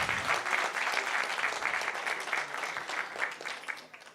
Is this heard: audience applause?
yes